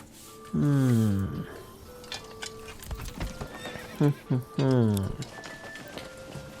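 Horses in the video game Manor Lords whinny several times in quick, high-pitched neighs, with hooves clip-clopping and a voice talking softly in the background.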